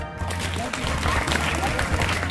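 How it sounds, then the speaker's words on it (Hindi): An audience claps throughout at a Munni Devi Adarsh Public School event, a dense, continuous patter at a fairly loud level over a low hum. "बजाओ ताली"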